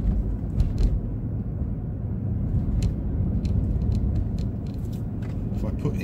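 A Hemi 5.7 V8 runs on all eight cylinders with its multi-displacement system off, a steady low rumble heard from inside the vehicle with a few faint clicks over it.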